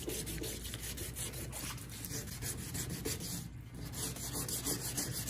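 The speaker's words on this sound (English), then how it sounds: "Once I get through sanding and get everything I can get with the sandpaper" Sandpaper rubbing old paint off the door jambs of a Chevy C10 squarebody pickup, a steady close scratchy rasp that continues without a break and without talk.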